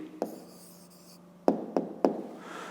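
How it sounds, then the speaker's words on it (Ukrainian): A pen writing an answer on paper during a fifth-grade maths exercise, one soft tap followed by a scratchy stroke, then three sharp knocks close together near the end, all close and with no talk. "Пишемо відповідь."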